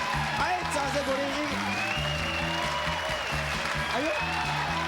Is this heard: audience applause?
yes